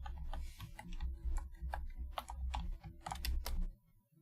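Fingers typing on a computer keyboard, a quick irregular run of light clicking keystrokes close to the microphone, alone without any voices.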